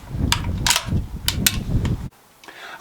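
Smoothbore 1892 Winchester fired at a milk jug outdoors: a series of sharp cracks and clacks from the lever action, then a sudden drop to near silence before one final snap.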